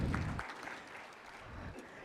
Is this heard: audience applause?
yes